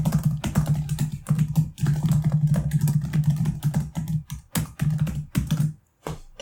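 Rapid, uneven clatter of keys on an old, obsolete computer keyboard, loud and close, with brief pauses between bursts of typing and no talk.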